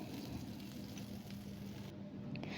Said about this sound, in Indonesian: Lanjut tumis 3 siung bawang merah iris sampai warnanya kuning kecoklatan.